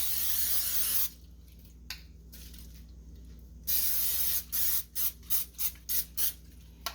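A spray bottle mists a brined, spatchcocked whole chicken before smoking: one long spray, a brief spritz, another long burst, then a run of six or seven quick pumps, close and crisp with no talking.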